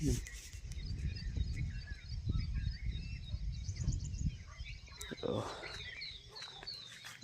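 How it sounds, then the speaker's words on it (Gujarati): Scattered bird calls and chirps drift in from a distance over a low outdoor background in a village, with a voice speaking faintly at times. "ખાલી અવાજ સાંભળો પક્ષીઓના"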